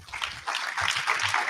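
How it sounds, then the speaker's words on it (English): Audience applause fills a hall during a drag racing hall of fame induction ceremony, a steady broadband wash of many hands clapping at moderate loudness, with faint low murmurs underneath. "Ladies and gentlemen, let's give Chris a round of applause"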